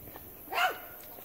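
A single close, fairly soft dog bark sounds once in the middle, with faint background noise around it.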